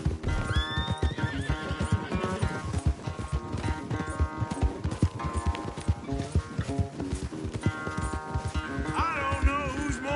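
A horse gallops and neighs in Red Dead Redemption 2 during a race, with rapid clip-clop hoofbeats and whinnies over a continuous musical score.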